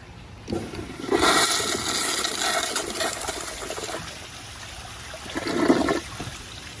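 A Kohler Kingston toilet does a full power flush with its control stop fully open, a rushing surge of water that swells, settles into a long draining trickle, then gurgles up again near the end.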